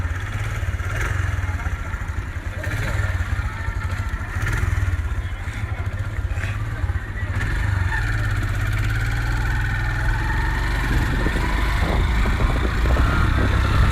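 A motorcycle engine idles close by in a steady, continuous low rumble with faint clatter, outdoors, holding an even level throughout with no speech.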